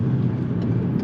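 A Volkswagen MK5 Golf GTI with an aftermarket exhaust system accelerates hard, giving a steady, close engine and exhaust drone for about a second.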